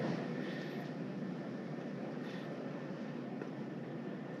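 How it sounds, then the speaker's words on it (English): A short train passes by outdoors, a steady broadband rumble and rolling noise that holds at an even level throughout, with no talk over it. "Oh my God, that was the shortest train ever."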